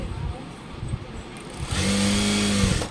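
A sewing machine stitches a school uniform pant in one steady whirring run of about a second that starts and stops abruptly, after softer handling noise at the start.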